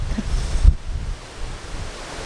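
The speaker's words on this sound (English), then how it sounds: "When it's this windy" Strong wind buffets the microphone on a links golf course, a rough low rumble with a gusty burst that then eases into a steady airy roar.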